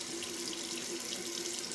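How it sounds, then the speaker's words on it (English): Tap water runs steadily into a sink for a cold rinse after a shave, a continuous close splashing hiss that stays even throughout with no talking. "So let's do a quick cold water rinse."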